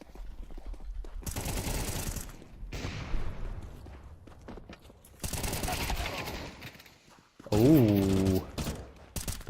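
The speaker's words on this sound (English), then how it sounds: "the FAMAS has managed to burst them down. I think that was burst mode actually from the FAMAS." Bursts of FAMAS gunfire in a Counter-Strike esports match come in several clustered volleys amid game effects, while a caster talks in between.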